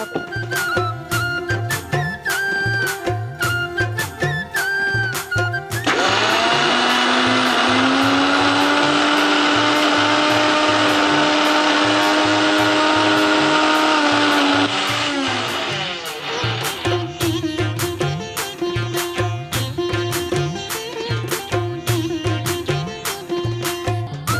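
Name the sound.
mixie blender grinding black-eyed pea batter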